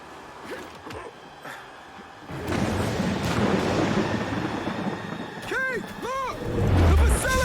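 A stormy scene in the video game Gears 5 brings a deep, rumbling roar of wind and thunder that swells and holds, with a few brief electronic chirps near the end.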